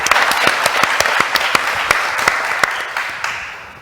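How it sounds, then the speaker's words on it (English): Audience applause at a specialty coffee conference in San Francisco, a dense wash of many hands clapping steadily with sharp individual claps standing out, fairly close and filling the room before slowly thinning. "One more big round of applause for Molly."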